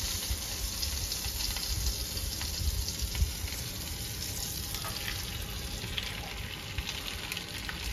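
Pieces of stingray fry in a pan of boiling butter, making a soft, continuous crackling sizzle at close range with a few brief pops and no talking.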